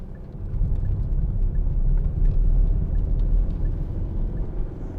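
Steady low engine rumble and road noise from inside a Hyundai i40 1.7 CRDi diesel car being driven, loud and continuous with no talking.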